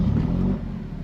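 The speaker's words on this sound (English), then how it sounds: "So I'm gonna keep the door open just so we can hear that engine come to life yet again." The engine of a 2024 Alfa Romeo Giulia Quadrifoglio starts up and settles into a loud, deep rumble, heard close through an open door, with no talking.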